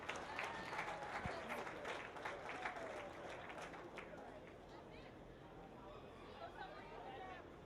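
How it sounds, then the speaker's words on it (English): Steady applause from a crowd at a dairy heifer show, a dense patter of clapping with some chatter mixed in, fading slightly toward the end. "Give them a big round of applause again."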